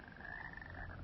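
Frogs croak in a steady, dense chorus throughout a short excerpt from a Korean presidential campaign TV advert, with no voices over it.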